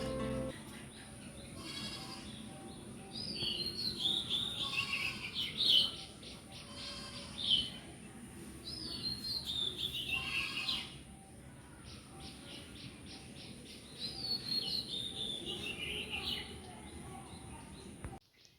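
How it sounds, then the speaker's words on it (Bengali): Several birds chirp and tweet in bursts around a house at about 6 a.m., fairly close, over a low steady background hum, with occasional bleat-like calls mixed in. "আমার বাড়ির পাখিগুলোর ডাক শোনাই"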